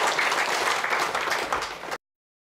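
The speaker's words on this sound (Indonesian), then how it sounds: "Berikan aplaus kepada Pak." An audience applauding at an Indonesian training session, a dense, steady wash of clapping for about two seconds that stops abruptly.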